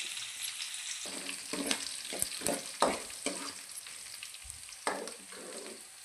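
Onions sizzle and fry in hot oil for a poha tempering, a steady crackling hiss broken by several stirring scrapes and clinks, close and with no talking.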